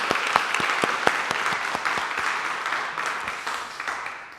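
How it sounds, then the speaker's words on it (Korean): A church audience applauds to encourage a youth group after a service they prepared, with distinct sharp claps at first that blend into a steady, moderately loud round of applause before tapering off. "우리 기특하고 소중한 우리 청소년들 위해 우리 박수로 한번 격려할까요?"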